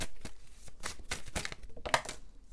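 A tarot deck being shuffled and cards pulled: rapid papery riffling and flicking at close range in quick uneven bursts, fairly quiet, with no talk.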